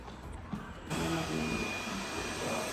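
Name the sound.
robot vacuum cleaner running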